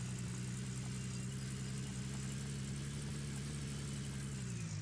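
A vehicle engine in Gold Rush: The Game drones steadily while driving, a low idling-like hum with even harmonics that holds constant throughout with no talk.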